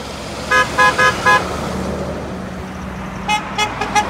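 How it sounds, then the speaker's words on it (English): Car horns honk on a street outside a barbershop: four short toots in a row, then a pause and a second burst of quicker honks, over steady traffic rumble. "Horns are honking all over the place."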